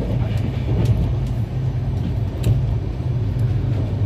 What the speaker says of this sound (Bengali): ট্রেনটা বেশ ভালোই যাচ্ছে।